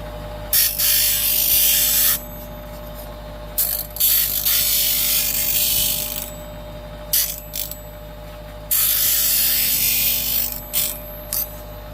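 Steel card scraper profile being ground on a sander, harsh hissing grinding in several separate passes of a few seconds each with quiet gaps, close and loud.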